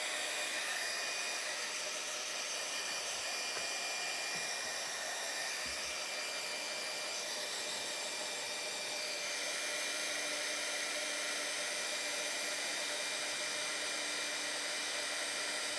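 A heat tool for embossing powder warming up, a steady loud whooshing blower hum that runs unbroken from start to finish, close by with no talking.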